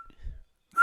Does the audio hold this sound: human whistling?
yes